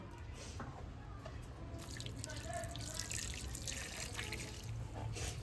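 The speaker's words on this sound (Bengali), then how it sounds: "এই গরম জল দিয়ে এবার আমরা শঙ্কর মাছটাকে ধুয়ে নেব।" Hot water runs and splashes steadily over stingray pieces in a sink, a soft continuous trickle and drip up close.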